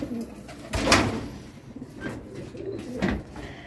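A pigeon kept as a stock bird coos in several soft, repeated bursts, moderately close, with quiet room background between calls.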